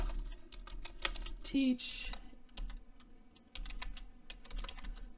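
Computer keyboard typing at a desk, with a steady patter of close key clicks running under a voice that talks throughout.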